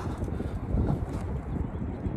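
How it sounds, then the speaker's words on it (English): Gusty wind buffeting the microphone in low, uneven rumbles, loud and close, with faint outdoor sounds beneath. "It's so nice out. It's a little bit windy."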